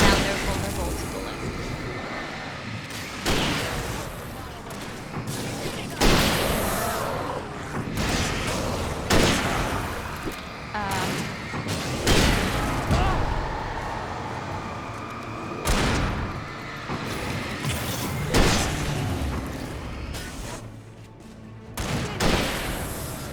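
Gunfire in the Alan Wake video game as enemies are shot, with repeated loud gunshots at irregular intervals over a noisy, busy background.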